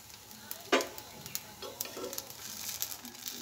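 Patishapta pitha, a soft coconut-filled rolled crepe, frying in a pan: a steady low sizzle with a sharp scrape or clatter near the start and scattered soft ticks and pops throughout.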